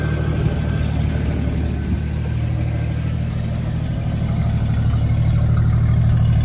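A 1981 Jeep Scrambler's engine runs steadily at idle, a loud, close, low rumbling drone that holds constant with a faint rise near the end and no voices.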